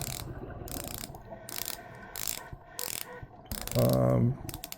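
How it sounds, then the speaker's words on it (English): A polished black ceramic unidirectional bezel on a VAER D5 Meridian 42mm automatic diver's watch is turned in short bursts of crisp ratcheting clicks, about six quick runs heard up close with brief pauses between them. "Bezel, nicely polished black ceramic insert that's unidirectional. Nice sounding clicks here."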